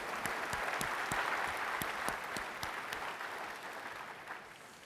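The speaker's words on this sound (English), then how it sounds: "I'd love to get a round of applause just for everyone who helps drive this project forward each year" Applause from a keynote audience at a technology conference, steady and full at first, then slowly thinning toward the end with individual claps standing out.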